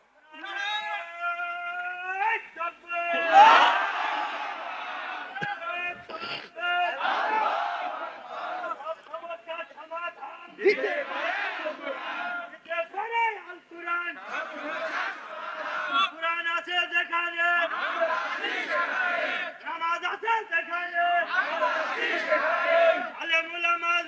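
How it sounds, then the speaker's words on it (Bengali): Young man leads a takbir call at a crowded Islamic religious gathering (mahfil), answered by the crowd in repeated loud chanted waves with tonal voices, shouts rising and falling in bursts throughout. "এবার একজন যুবক তাকবীর দিবা, পুরা মাহফিল যেন প্রকম্পিত হয়"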